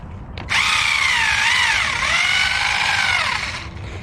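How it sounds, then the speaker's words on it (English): A loud, high-pitched mechanical whine from an RC car's small motor and gears as the rear differential tears, rising and dipping in pitch for about three seconds before cutting off. "Guys, I'm starting to hear the back differential tear."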